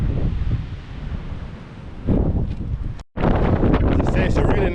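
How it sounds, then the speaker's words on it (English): Gusty wind buffets the microphone outdoors along the disused Great Northern Railway Queensbury–Keighley line, a loud rumbling roar that swells and briefly cuts out, with a faint voice underneath. "it's a really nice day today, however it is quite windy."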